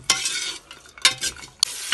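Cashews roasting in ghee for vegetable pulao, stirred in short bursts: three sharp scraping strokes over a soft sizzle, close and fairly loud, with no talking.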